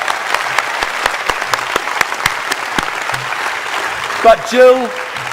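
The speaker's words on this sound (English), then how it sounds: "Give her a massive clap" An audience at the NZPF 2017 conference closing ceremony applauds an award recipient named a Member of the NZ Order of Merit for services to education, with distinct claps over a steady patter, followed by a brief voice at the end.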